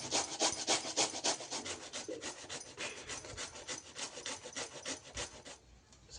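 Bottle gourd is grated by hand for thalipeeth in a quiet kitchen, giving a rhythmic series of soft, scratchy rasping strokes that repeat steadily and close by.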